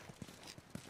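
Horse hooves clip-clopping in The Last of Us remake video game, a short run of soft, faint hoofbeats in quick succession.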